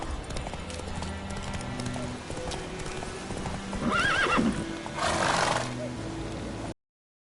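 Roach, the horse in The Witcher: Wild Hunt, gallops with rapid hoofbeats and then lets out a loud, close neigh followed by a snort over the running rhythm.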